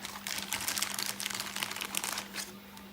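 Plastic wrapping on a sticker pack crinkles and crackles up close as it is opened, a quiet run of rapid rustling bursts over a faint steady hum.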